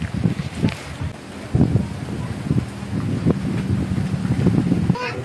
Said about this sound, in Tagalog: Grabe ang kusog ang hangin eh.